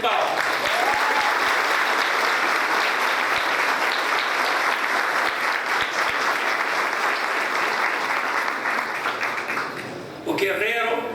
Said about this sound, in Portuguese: eu peço mais uma vez uma salva de palmas